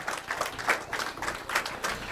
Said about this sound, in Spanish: yo quiero que tú le des a Dios otra vez un grito de júbilo y un aplauso al Señor